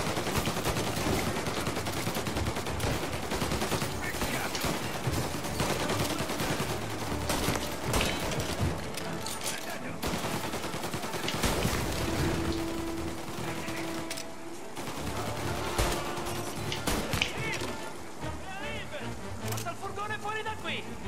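Dense bursts of rapid video game gunfire from Mafia: Definitive Edition, shooting at signs, crackle throughout, sometimes in sustained volleys, with a voice talking intermittently over the shooting and engine-like noise.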